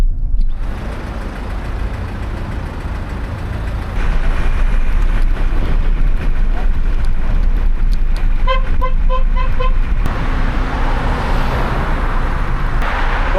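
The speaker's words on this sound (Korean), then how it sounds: "이렇게 들어오고 나가는 차들이 너무 많아요." Busy road traffic in Türkiye with many cars coming and going, a dense continuous engine roar close by, rising louder midway, with a short burst of horn toots.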